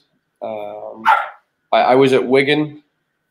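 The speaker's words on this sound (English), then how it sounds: "The dog's trying to get in." A dog trying to get into a room barks twice, loud and close, in sharp voiced bursts with a short gap between them, while someone speaks over the first bark.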